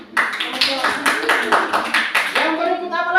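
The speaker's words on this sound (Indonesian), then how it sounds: "tepuk tangan" Pupils in a classroom clap for a student's answer with a quick, rhythmic patter of hand claps, close and loud, while voices chant or talk along over it.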